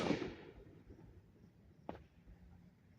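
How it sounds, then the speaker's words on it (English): Distant fireworks at a night campsite in the Wayne County area, heard as a single faint sharp pop that rises briefly above a low outdoor rumble, with a short rush of noise at the very start. "all right, those are fireworks."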